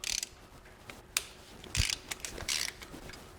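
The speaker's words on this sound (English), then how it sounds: "So we'll just loosen this one" A ratchet works on a gearbox bolt of a Citroen C5 during a clutch replacement, giving a few short bursts of clicking with pauses between them, close and fairly quiet.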